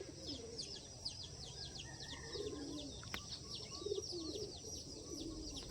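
Soft pigeon cooing in the background under steady outdoor hiss on a farm, with faint chirps from other birds, hens clucking, and occasional light clicks.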